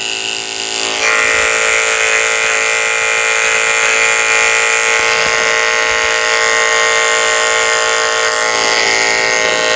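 Electric clippers buzz loudly and steadily at close range while shaving a Shih Tzu's coat. The motor starts after a brief moment and then hums continuously, with no speech.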